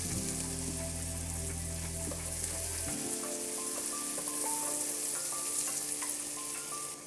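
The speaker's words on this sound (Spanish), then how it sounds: "Agregamos nuestra cebolla, vamos a ponerlas a dorar solamente un minutito" Chopped onion browning in butter in a pan for a rice and noodle pilaf, a steady close sizzle with soft crackles that shifts as the pan is stirred, with no voices.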